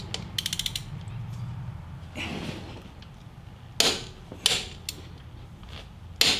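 A torque wrench set to 100 foot-pounds tightens the primary assembly on a Harley touring motorcycle, giving a few sharp, close ratcheting clicks and metallic creaks spaced between quiet pauses.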